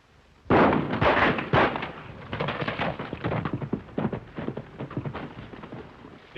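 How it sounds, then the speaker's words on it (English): Several sharp gunshots crack out in close succession near a horse, then continue as a scattered, rapid series of bangs and clatter. "didn't I tell you fellas not to shoot guns in front of that horse?"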